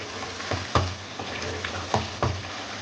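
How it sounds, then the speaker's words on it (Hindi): Chicken korma curry sizzling and frying in a pan after yogurt is added, a soft steady crackle broken by a few sharper stirring scrapes, close and moderately quiet. "सालन को भूनते हुए देखिए"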